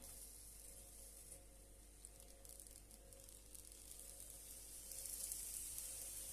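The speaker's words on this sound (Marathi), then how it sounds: "आता आपण पराठा टाकून घेऊया" A spring onion paratha sizzles on a hot tawa, with a steady, moderately loud frying hiss that holds evenly and swells slightly toward the end, with no voices.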